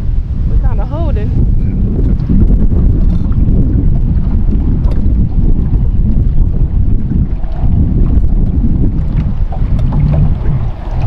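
Steady, loud wind buffets a microphone aboard a Bass Tracker 175 bass boat on the California Delta. A continuous low roar of gusts and water noise persists throughout, with brief faint sounds of activity on deck.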